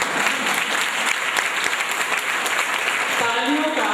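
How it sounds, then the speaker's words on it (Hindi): A crowd claps steadily in dense, continuous applause during a Narayan Reiki gathering, loud and close, with a voice starting to speak over it near the end. "तालियां बजाते हैं, चेहरे पर मीठी मधुर मुस्कान लिए बजाइए"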